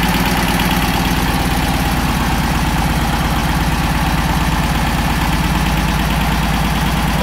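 A car engine idles steadily while warming up, with a breather check device connected; a continuous, loud, even low rumble with a faint knocking rhythm and no talk throughout.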